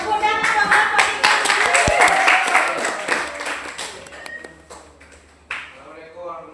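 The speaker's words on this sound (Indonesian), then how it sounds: "Tepuk tangan buat Kelompok 3." A group of students applauds in a classroom, a burst of scattered hand claps mixed with voices that thins out after a few seconds.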